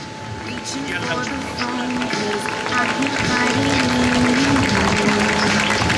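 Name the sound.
applause for runner at urban mile race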